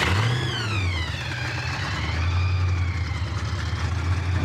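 A 1950s-60s Ford Thunderbird V8 engine with a blown fuse fault runs close by and revs up, its pitch sweeping higher and falling back before settling into a steady hum.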